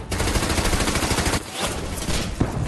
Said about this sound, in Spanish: los disparos de las ametralladoras alemanas